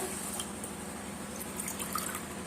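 Water is poured from a tumbler into roasted rice and dal for ven pongal, a steady, soft splashing stream with light dripping throughout.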